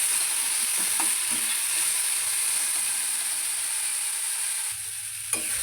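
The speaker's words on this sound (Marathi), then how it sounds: "कांद्याला असं मस्त असं लाल खरपूस रंग येईपर्यंत भाजून घ्यायचं आहे आपल्याला" Onions fry in a pan until browned for a hotel-style spicy brinjal curry, giving a steady close hiss and sizzle throughout, with occasional soft stirring taps. A short quieter stretch near the end is followed by a brief clink.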